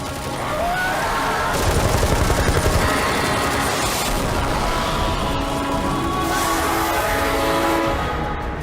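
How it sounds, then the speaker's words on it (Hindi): Sustained, dense gunfire in a movie battle scene with a dragon attack, rapid bursts layered over a constant loud roar of battle, continuous for several seconds. "गोलियां चलाते रहो।"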